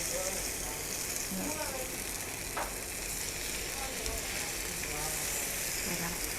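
Slices of Australian beef sizzle steadily on a hot BBQ grill pot at a hotpot and barbecue restaurant, a continuous close crackling hiss with a voice speaking faintly over it.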